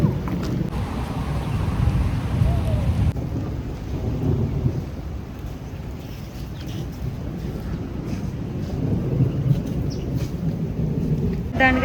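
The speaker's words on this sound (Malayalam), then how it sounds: "അവിടെ എത്തിയപ്പോൾ ആണെങ്കിൽ നല്ല മഴയും നല്ല ഇടിയുണ്ട്" Heavy rain falls in Kuala Lumpur near the Twin Towers and KL Tower, with a steady wash of rain, low rolling thunder and wind buffeting the microphone.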